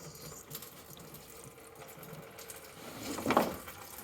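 Engine coolant from a 35-year-old GM hose on an S10 pickup drains and splashes into a bucket, a steady watery trickle that swells into a louder gush near the end.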